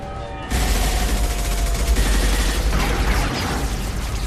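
Heavy gunfire in a Mass Effect firefight, a dense, loud, continuous barrage of overlapping shots that erupts suddenly and keeps going without pause, with no voices over it.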